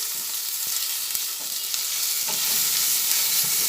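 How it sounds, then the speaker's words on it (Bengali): Spices frying in oil for a bottle gourd peel kofta curry give a loud, dense, close-up hiss with a few faint spoon taps underneath. "এক এক করে সব ভালোভাবে ভেজে নিচ্ছি"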